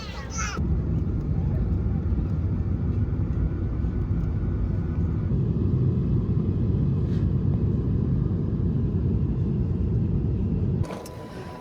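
A Breeze Airways airplane cabin just after landing in Orlando fills with a loud, steady low rumble and roar that runs evenly, then drops suddenly to a quieter hum near the end.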